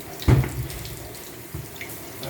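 Hot water runs steadily from a tap into a sink nearby, a continuous rushing splash with a louder burst near the start and no talk over it.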